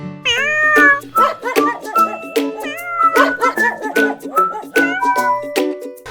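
Male cat repeatedly meowing up close, a rapid series of loud, drawn-out, rising and falling cries with barely any gap between them.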